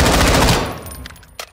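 A SIG MCX Rattler fires on full auto in the shooter game Call of Duty: Modern Warfare II. A loud, rapid rattle of shots lasts about half a second, then fades into echoing tails and a few faint clicks.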